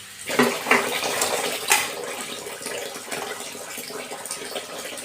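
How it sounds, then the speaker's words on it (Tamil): Water is poured into mango pachadi cooking in a pan, a steady splashing stream with a few sharp clinks from the vessel, continuous and close for several seconds. "ஒரு அரை டம்ளர் அளவுக்கு தண்ணி இதில் சேர்த்துக்கலாம்"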